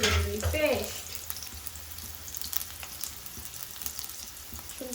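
Onions fry in a pan with a steady, close crackling sizzle, opening with a brief clatter of stirring, then continuing evenly throughout.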